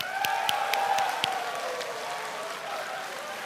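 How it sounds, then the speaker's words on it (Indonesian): Applause from a crowd at a 2014 Indonesian presidential debate, a burst of clapping that fades over a few seconds, heard at a moderate distance. "Kita berikan tepuk tangan."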